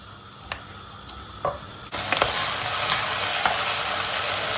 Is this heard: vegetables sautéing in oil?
yes